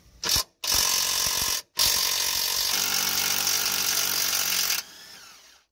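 Power tool, likely an impact gun, driving a control arm bolt out of a Nissan Note's lower suspension wishbone, running in three loud close bursts with brief pauses, the last one long and steady before spinning down.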